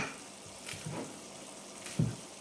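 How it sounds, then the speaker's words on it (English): A faint, low sizzle and bubble comes from curry simmering gently in a covered pot, with a soft steady hiss and a few small pops. "We're going to leave it for 10 more minutes while this is still simmering."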